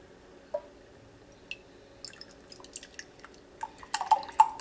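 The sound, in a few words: pouring fresh tomato juice into a mug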